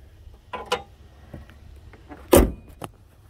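A car hood is closed with one solid thump midway, preceded by a few lighter handling clicks and rattles and followed by a faint tap, all at close range in a quiet garage.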